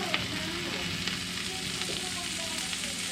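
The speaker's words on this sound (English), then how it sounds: "now that these vegetables have cooked down a little bit, we're going to add in our mushrooms" Sliced baby portobello mushrooms and cooked-down vegetables fry in a pan with a steady, close sizzle and a few soft stirring clicks and scrapes, no voices over it.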